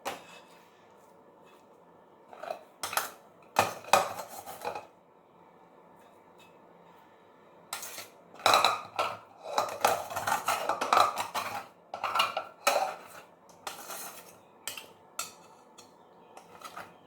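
Thiruvadhirai kali, a temple-style sweet, being poured into a pot and stirred, with irregular bursts of metal spoon clatter and scraping against the vessel separated by quiet pauses, close and moderately loud.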